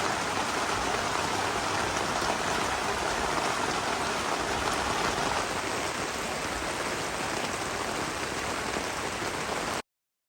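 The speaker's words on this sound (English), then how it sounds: "It sounds like it's raining." Steady heavy rain falling on a campsite tent, a dense continuous hiss of drops pattering close and loud, unbroken until it cuts off abruptly near the end.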